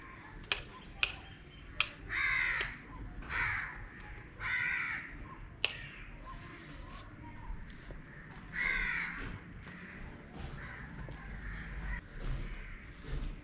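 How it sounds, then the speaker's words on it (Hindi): Birds call at early morning dawn, with crow-like caws repeating in loud bursts over a soft outdoor background and a few sharp ticks. "ये तो इधर सुबह का टाइम है और परिंदे चहचहा रहे हैं।"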